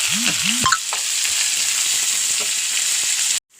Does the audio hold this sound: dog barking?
no